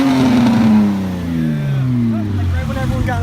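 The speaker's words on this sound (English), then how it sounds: "Hey, Keenan, quick rev, quick rev." A car engine at a Southern California car meet gets a quick rev that rises and then winds down. People talk and shout close by.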